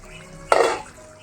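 A lid is lifted off a pot of raw banana masala sabji, making a single short clattering swish with a brief burst of steam hiss, near and fairly loud, then quiet.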